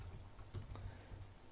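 Code being typed on a computer keyboard, heard as a few faint, sparse key taps over a low background hum.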